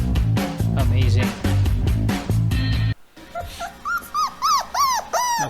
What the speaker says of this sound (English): Okay, this the puppy sound.